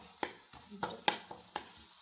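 Dried sardines fry with chili powder as a spoon stirs them, giving a few sharp scraping clacks over a soft sizzle.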